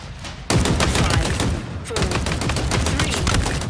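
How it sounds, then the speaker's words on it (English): The Commando, a fully automatic precision rifle in Halo Infinite, fires in two long, rapid bursts of close, loud shots separated by a brief pause. "The Commando is the first fully automatic precision weapon we've seen in a Halo game"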